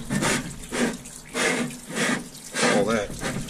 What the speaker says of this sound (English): we're over here in the parts washer